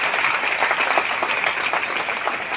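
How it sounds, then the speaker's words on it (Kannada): An audience applauds Basavanna with hands raised, a steady dense wash of clapping that holds evenly loud from start to finish without a break. "ಒಂದ್ಸರಿ ಎಲ್ಲರೂ ಎರಡು ಕೈ ಮೇಲೆ ಎತ್ತಿ ಬಸವಣ್ಣವ್ರಿಗೆ ಚಪ್ಪಾಳೆ ಹೊಡೀರಿ"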